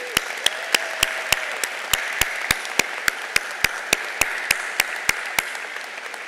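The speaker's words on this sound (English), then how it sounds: "Let's give them another round of applause." An audience applauds at the 2022 Hofstra University undergraduate commencement, a sustained wash of clapping carried by a steady, evenly spaced beat of sharp, prominent claps that continues throughout.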